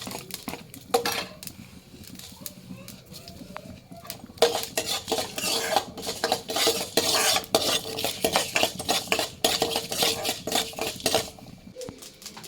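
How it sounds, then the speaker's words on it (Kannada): A metal spoon stirs fenugreek, mustard seeds and pepper dry-roasting in a pan over medium flame, giving quiet scraping at first, then busy clinking and scraping against the pan in quick irregular strokes, with no voices. "ಫಸ್ಟು ಮೆಂತ್ಯ ಹಾಕಿದ್ದೀನಿ, ದೆನ್ ಅದಾದಮೇಲೆ ಸಾಸಿವೆ ಮತ್ತು ಮೆಣಸು ಜೊತೆಯಲ್ಲೇ ಹಾಕೊತಿದ್ದೀನಿ"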